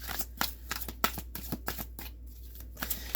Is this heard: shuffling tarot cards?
yes